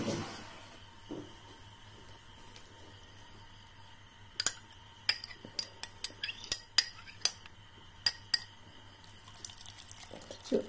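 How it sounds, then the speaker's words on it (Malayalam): Water is poured into a mixer grinder jar holding green chillies and grated coconut for a pappadam chutney, with trickling and splashing followed by sharp clinks and taps against the jar. "ഇനി നമുക്ക് ഇതിനകത്തേക്ക് സ്വല്പം വെള്ളം ഒഴിക്കാം."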